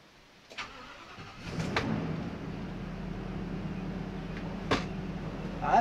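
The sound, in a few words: Ford V10 engine starting in RV after engine cover mod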